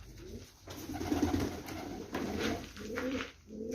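Tabgat pigeons coo repeatedly in low, throaty bursts, close by in a loft with a steady noise bed and no talk.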